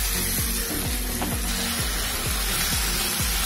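Onion paste sizzles steadily in a hot pan while cooking for mushroom do pyaza, a bright continuous crackle punctuated by repeated rhythmic stirring scrapes, close and loud, with no talking.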